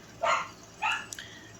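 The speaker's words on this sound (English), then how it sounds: "the dogs do bark sometimes. I can't change that." Two short bursts of dog barking from the speaker's own dogs inside a home, followed by a brief fainter yip, moderately close and heard alone without talk.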